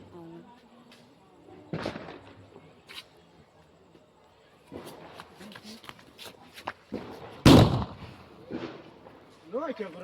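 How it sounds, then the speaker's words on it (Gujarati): Diwali firecrackers burst at night in a scattered series of sharp cracks and bangs, some close and loud, with rustling, footsteps and faint voices in between. "ત્યારબાદ રાત પડી ગઈ ને અમે ફોડી લીધું થોડાક ફટાકડા."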